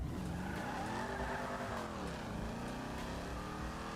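A car launching hard in GTA 5, its back wheels breaking traction: a loud revving engine with sweeping pitch under sustained tire squeal and wheelspin, continuous and close, no talking.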